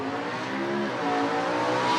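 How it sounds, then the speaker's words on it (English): A truck engine revs on the track, a steady close roar that climbs in pitch and grows slightly louder over two seconds. "truck sounds so good"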